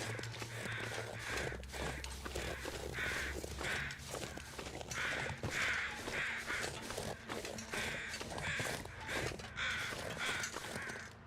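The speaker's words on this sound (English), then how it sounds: "I hear the birds." Crows cawing repeatedly in the snowy survival game The Long Dark, harsh rhythmic calls fairly close and clear, with footsteps crunching in snow and a low hum early on.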